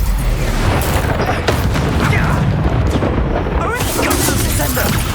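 A dense, booming spell blast rumbles steadily through a battle in Hogwarts Legacy, with loud, low, continuous explosive noise layered with crackles and effects throughout.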